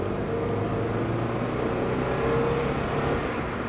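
Exhaust of a Japanese car misfiring and running on three cylinders, a steady loud low engine drone heard close at the tailpipe with a rough, uneven rumble throughout.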